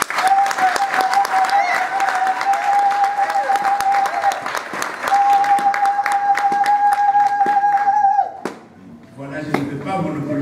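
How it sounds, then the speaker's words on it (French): A crowd at the opening of a conclave applauds the president, loud continuous clapping with a sustained tone ringing over it, dropping off sharply near the end before a few more claps. "de l'applaudir encore"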